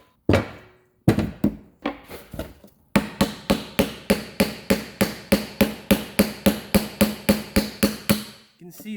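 A small hammer strikes a seized brake caliper bracket on a 2014 Subaru Crosstrek repeatedly, a few scattered taps at first, then a steady rapid series of sharp ringing blows, loud and close.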